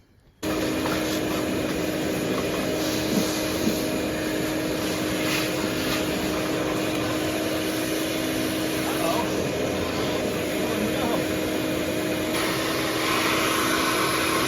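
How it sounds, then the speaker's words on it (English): A vacuum cleaner switches on abruptly, cleaning the carburetor of a 1979 Chrysler 300 junkyard car, and runs with a loud, steady whining drone that holds constant to the end. "So I guess I'll vacuum it first."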